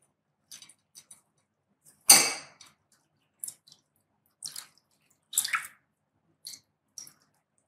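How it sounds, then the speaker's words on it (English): Water poured into a bowl during an ancestor tarpanam ritual, a series of sparse separate splashes and drips, one larger pour early on, then smaller trickles spread over several seconds in near silence. "You can take some more water and pour it on top and allow the tarpanum"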